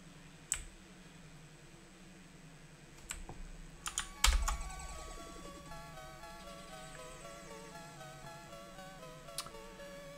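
Typing on a computer keyboard while coding a Commodore 64 game in 6502 assembly, heard as sparse clicks and a short cluster of keystrokes over a steady backdrop of music-like electronic tones.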